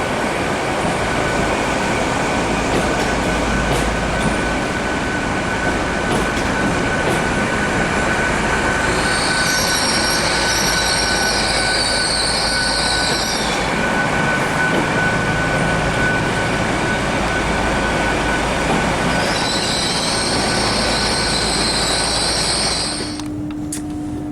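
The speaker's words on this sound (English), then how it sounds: "You can hear the diesel engines running on the train." A loud, steady diesel engine rumble fills the space as a train runs in diesel mode, with high whining tones rising briefly twice and a sudden drop near the end.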